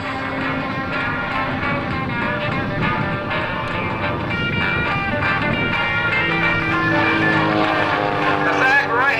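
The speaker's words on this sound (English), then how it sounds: "Ron Spence showed the capability of the S2B Pitts." A Pitts S2B aerobatic biplane engine drones steadily at an airshow, its pitch rising and falling as the plane maneuvers, with a voice talking over it.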